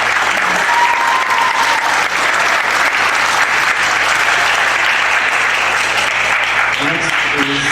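Sustained applause from an audience at a high school music department concert, a dense, steady wash of clapping that fills the whole stretch without pause and stays loud throughout.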